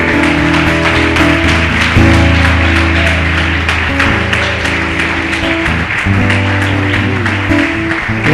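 Congregation clapping during a Portuguese-language church service, steady rhythmic claps running throughout over loud sustained music.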